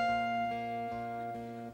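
A steady mechanical elevator hum in a Woolworth department store, with a few soft shifts in pitch as it moves, close and moderately quiet.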